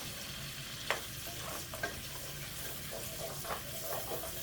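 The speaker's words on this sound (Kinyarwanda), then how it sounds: "noneho nshyiremo n'ibitunguru nabyo tubikarangane rero" Four eggs and onions frying together in a pan, a faint, steady sizzle with occasional soft scrapes and taps of a utensil, no voices.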